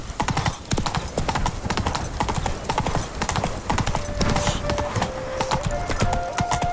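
Horse hooves clip-clop at a brisk, rhythmic trot while riding in the video game The Witcher 3, loud and continuous throughout, with faint background game sound.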